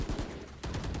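Gunfire in the tactical shooter Valorant: a couple of sharp, close shots with dense low-end thump, a brief lull, then another burst near the end, all without talk.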